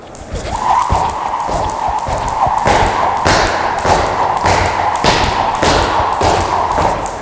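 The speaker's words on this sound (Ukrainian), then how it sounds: "по звуку чутно, що я досить грубо падаю на землю" Repeated heavy thuds of flat feet landing hard on the ground during double jumps in a steady rhythm, close and loud over a constant hissy background.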